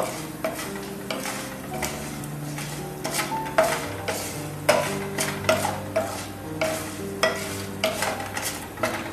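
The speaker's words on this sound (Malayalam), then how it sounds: "ഇതൊന്ന് ഉഴുന്ന് പരിപ്പും ഇതുപോലെ ഒരു ഗോൾഡൻ ബ്രൗൺ കളർ ആവുന്നവരെ ഒന്ന് മൂപ്പിച്ചെടുക്കുക" Urad dal and cumin roasting in ghee in a pan for rava idli, with a steady soft sizzle under repeated rhythmic clinks and scrapes of a spoon stirring, close and clear.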